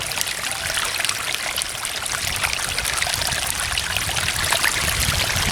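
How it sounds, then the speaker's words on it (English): Rainwater runs steadily across a road in wet weather, a continuous close trickling and streaming wash with no breaks and no talk. "That's just from the rainwater that is on the road right here."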